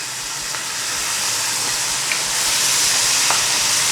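Onions sizzle loudly in a pan being deglazed with Worcestershire sauce, a steady bright hissing and crackling with a few sharp pops, close and continuous.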